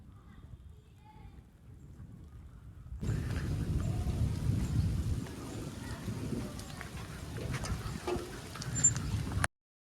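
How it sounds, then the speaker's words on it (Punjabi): Steady rain falling outdoors during a heavy cloudy downpour, a continuous hiss and patter that swells up partway through and keeps going, with low rumbling beneath. "ਬਾਰਿਸ਼ ਹੋ ਰਹੀ ਹੈ"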